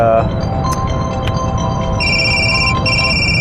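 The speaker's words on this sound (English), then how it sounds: "Incoming call. That's really loud." A loud incoming-call ringtone on a phone, with repeated high electronic tones sounding steadily across the clip over a constant background hum.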